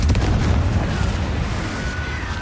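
A fiery Confringo spell blast in Hogwarts Legacy bursts with a heavy boom at the outset, followed by a sustained rumbling, crackling decay.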